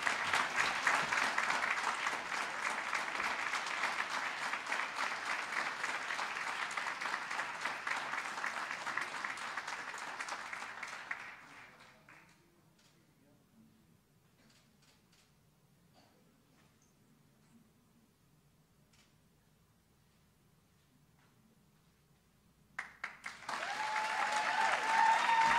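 An audience at an alumni Hall of Fame induction ceremony applauds a new inductee: loud, sustained clapping for about eleven seconds that fades to near silence, then a fresh burst of applause starts up at the end.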